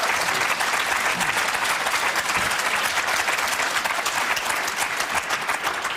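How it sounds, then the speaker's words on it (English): Loud, dense applause from a large Question Time studio audience in Aylesbury, steady throughout with a few cheers mixed in. "that got a very loud cheer from quite a lot of you"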